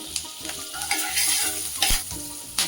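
Green chilli and chopped onion sautéing in butter with oil for pav bhaji, a close crackling sizzle with rhythmic spatula scrapes and knocks against the pan.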